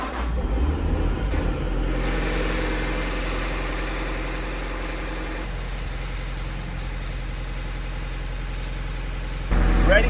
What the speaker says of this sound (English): And we can start snow blowing.